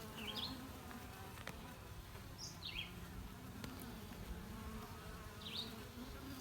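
Honeybees buzz around a newly occupied hive, a steady close drone with several brief louder passes as individual bees fly near, no voices.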